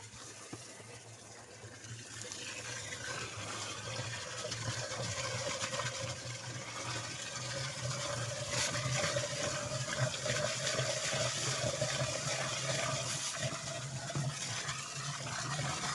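Water runs steadily into a drum on a farm plot, a continuous rushing fill that stays moderately loud and even throughout, with no voices.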